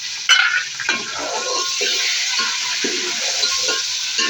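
Onion, ginger, tomato and green chili fry in a pan with a loud, steady sizzle and hiss, broken by a few stirring scrapes, close by.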